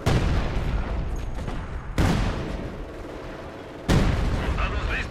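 Gunfire on a Company of Heroes 2 battlefield, with loud sustained volleys and three sharp onsets that sound like machine-gun bursts and artillery booms.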